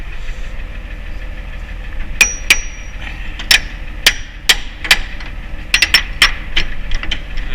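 Sharp metallic hammer strikes while mounting a combine harvester platform ring out over a low rumble, about a dozen irregular blows, some in quick pairs, loud and close.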